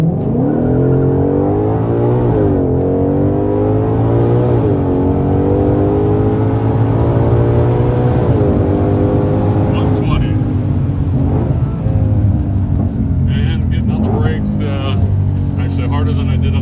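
A Ford Shelby GT500 engine revs and pulls hard on a launch control start, pitch climbing through several gear changes, loud and close, with a voice speaking over the roar.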